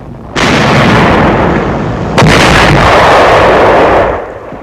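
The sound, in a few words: tank firing its gun, WWII newsreel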